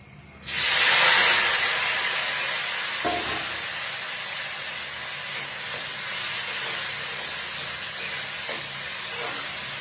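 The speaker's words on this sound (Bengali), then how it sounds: "এবার একটু পেঁয়াজটা লাল লাল করে ভেজে নেব" Steady sizzling hiss of onions frying in hot oil, loud and close, starting abruptly and continuing with faint stirring clinks.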